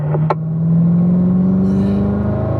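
A car on the Spring Mountain race track, its engine droning steadily and swelling as it accelerates, loud and close, with a brief click near the start and no talking.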